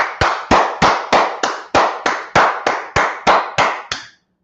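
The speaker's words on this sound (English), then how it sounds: "Let's clap it up for the Lord." A congregation at a religious class claps about twelve times in a slow, even rhythm, each clap loud, sharp and close with a short ring, before stopping abruptly.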